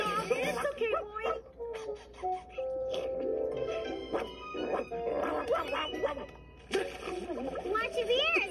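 A cartoon dog barks and yips in quick bursts amid splashing water, with excited voices talking over it throughout.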